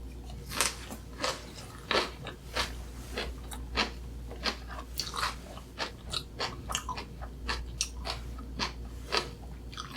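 Crisp, wet crunching bites and chewing of fresh napa cabbage geotjeori kimchi in spicy seasoning, close and repeated in an irregular rhythm with no talking.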